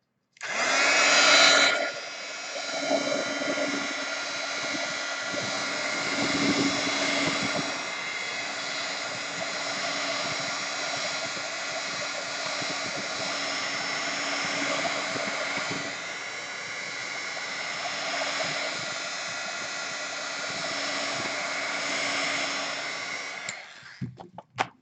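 A hair dryer blows on wet paint on an artwork, a loud whoosh at switch-on settling into a steady, close, continuous whirring hum for over twenty seconds before cutting off abruptly.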